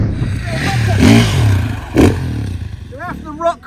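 An enduro motorcycle picks its way across a rocky boulder-filled gully track, engine revving in bursts with clattering over rocks, a rider's voice and other voices heard at moments.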